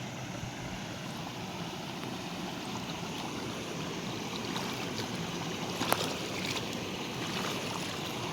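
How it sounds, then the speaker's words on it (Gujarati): Steady rushing of flowing stream water during rain, a continuous broadband wash with no talking, holding an even level throughout. "પાણીનો અવાજ અહીં શાંતિથી સાંભળીએ"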